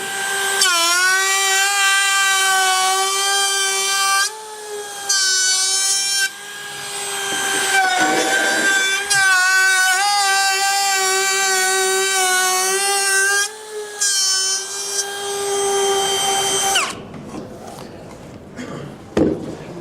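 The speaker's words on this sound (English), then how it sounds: "that dovetail bit actually cuts easier than the 1/4 inch bit does because I've already done the relief groove" A router fitted with a dovetail bit cutting a groove in wood, loud steady high-pitched whine with brief dips as the cut changes, winding down near the end, no talking.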